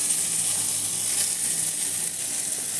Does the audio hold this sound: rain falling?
no